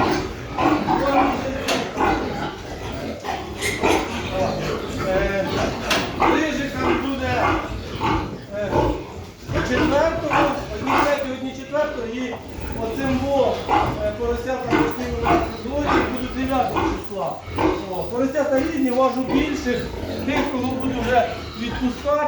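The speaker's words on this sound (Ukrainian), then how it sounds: "Цим поросятам буде 3 числа." Piglets grunting and squealing in a farmyard, a busy run of short repeated grunts and squeals heard close, with talking voices mixed in throughout.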